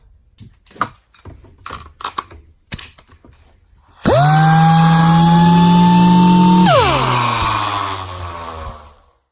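Dynabrade air-powered random orbital sander starting up after a few sharp clicks, then a loud steady whine at 90 psi for several seconds before it spins down with a falling pitch.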